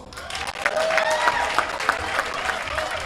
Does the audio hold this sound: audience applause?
yes